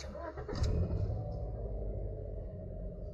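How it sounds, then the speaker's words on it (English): A Toyota car engine with an automated manual gearbox cranks and catches after a clutch learning fault, then settles into a low, steady idle rumble close by. "So we press the brake and start the engine."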